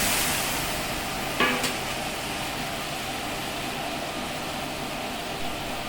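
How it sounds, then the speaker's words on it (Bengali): Hilsa fish oil and taro leaves hit a hot wok and fry with a close, steady sizzle, and a brief utensil clink comes early on. "ইলিশ মাছের তেলগুলো ও কচু শাকগুলো কড়াইতে দিয়ে দিচ্ছি"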